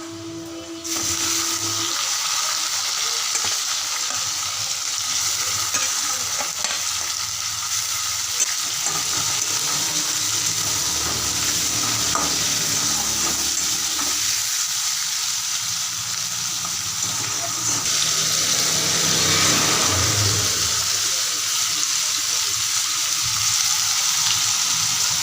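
Prawns fry with onion in a pan, a continuous close sizzle with scraping stir strokes throughout. The hiss swells louder toward the end.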